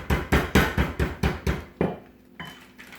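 Heavy kitchenware knocks in a rapid, regular run of about eight loud, close thuds beside an electric skillet, then stops, leaving a quiet room tone with a faint hum.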